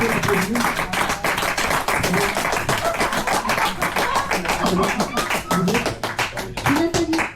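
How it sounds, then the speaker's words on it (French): Audience applauding steadily at a 60th birthday celebration, dense continuous clapping filling the room with a few voices underneath. "Si on peut l'applaudir."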